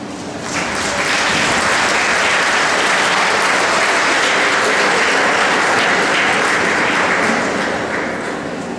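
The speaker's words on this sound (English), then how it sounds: "give all of your family a big round of applause" A large graduation-ceremony audience breaks into sustained applause for the graduates' families, a dense, even roar of clapping that swells in, holds loud for several seconds and tapers slightly at the end.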